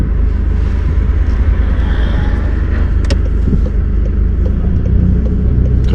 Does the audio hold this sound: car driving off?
yes